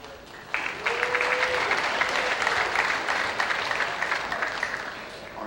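A school academic awards ceremony audience applauding, steady dense clapping from a large crowd filling the room, continuous and fairly loud throughout.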